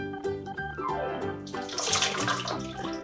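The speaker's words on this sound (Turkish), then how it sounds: "Şimdi bunu süzmemiz lazım tabi. Mesela böyle alacağım. Süzgecimin içerisine bırakacağım." Hibiscus sherbet with cardamom and lemon is poured through a strainer, a steady splashing pour that swells about halfway through, with music playing underneath.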